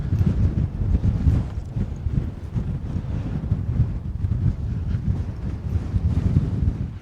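Strong, gusty wind sweeps across Sail Fell in the Lake District, buffeting the microphone with a continuous low roar that rises and falls in bursts; no one speaks.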